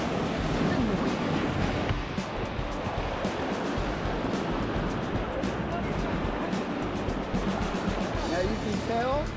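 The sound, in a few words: whitewater rapid on the Lower Deschutes River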